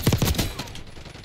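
Quick rattle of rapid gunshots from Call of Duty Black Ops 6, a short loud flurry at the start that fades into a softer tail.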